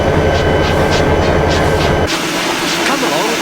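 A train pulling passenger coaches rumbles and clatters along with a steady mechanical chug, loud and close, then the low rumble drops away as the sound shifts.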